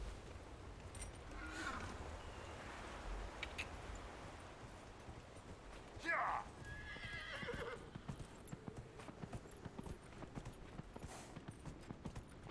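A horse in the Dragon Age Inquisition video game whinnies once, followed by a steady clip-clop of hooves over quiet game ambience.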